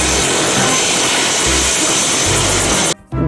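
Loud, steady roar of a helicopter with broadband rotor and engine noise, cutting off abruptly near the end.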